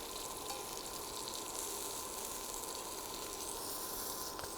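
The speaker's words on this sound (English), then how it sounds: "And that sear is starting to get nice." Beef steak, sous vide cooked, sears in hot oil in a pan, giving a steady close sizzle that carries on without a break and without talk.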